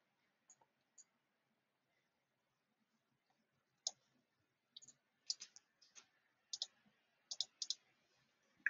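Computer mouse clicking, sharp close clicks, a couple alone at first and then a quicker run of single and double clicks, quiet with no talking.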